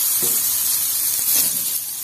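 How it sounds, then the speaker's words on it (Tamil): Paneer fries in ghee for a paneer pulao, giving a continuous bright sizzling hiss with a couple of faint stirring scrapes, close and alone. "நெய்ல நல்லா வறுந்து ப்ரௌனிஷ் ஆகணும்"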